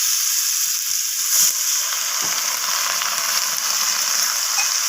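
Water poured into sizzling fried spice paste in a pan for fish curry with Morola fish and onion greens, a loud steady hiss with a brief surge as the liquid hits the hot oil.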